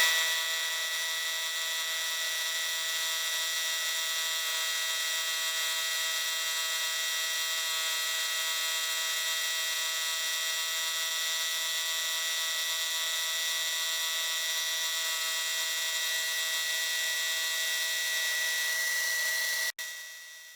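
Milling machine taking a roughing cut about 0.9 mm deep with a single-toothed fly cutter, a steady high-pitched whine holding evenly for about twenty seconds before stopping abruptly near the end, with no talk.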